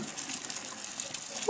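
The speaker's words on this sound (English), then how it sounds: "you're gonna strain out all that unwanted water" Cooked pasta water drains through a strainer as a steady, rushing hiss of pouring liquid, fairly soft and continuous with no voices.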